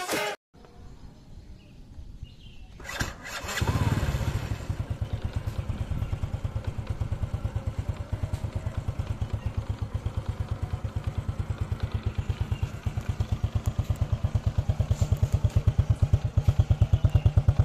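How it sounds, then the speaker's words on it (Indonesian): A 2008 Honda Supra Fit motorcycle engine starts after a couple of seconds of clatter and settles into a steady, rapid single-cylinder idle, close and even, thumping on without pause. "Oke, yuk sekarang kita nyalain mesinnya, kita dengerin sama-sama suara mesinnya kayak gimana."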